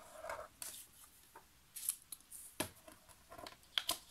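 Scissors cut a paper square for a handmade card, making a series of quiet, crisp snips at an uneven rhythm with short pauses between cuts.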